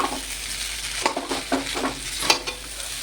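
Chicken chow mein noodles are stirred in a hot pan over a constant sizzle, with several distinct scraping and clattering strokes of the spatula, close and fairly loud.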